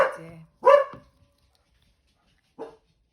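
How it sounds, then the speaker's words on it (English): A pet dog named Max barks indoors, two sharp close barks in quick succession followed after a pause by a shorter, softer third bark. "He did hear something worth barking at."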